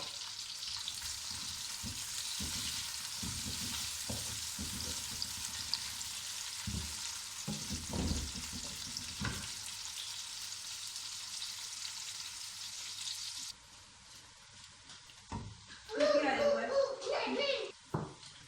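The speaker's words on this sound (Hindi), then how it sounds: "प्याज को हल्का फ्राई करके बाद में अदरक लहसुन इसमें डालती हूँ" Steady sizzling of onions frying in a pan fills most of the clip, with occasional stirring clatter, then it drops off and a voice is heard.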